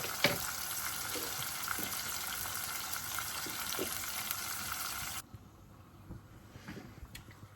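Tomatoes and onions cooking in a pan for a curry, a steady close sizzle with a few soft stirring knocks, the hiss dropping abruptly to a quieter background near the end.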